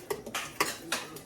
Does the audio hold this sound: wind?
no